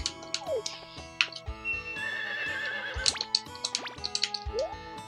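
Horse in the Harvest Moon 64 farming video game gives several high, wavering whinnies over the game's looping music, with brief clip-clop and dripping effects between them.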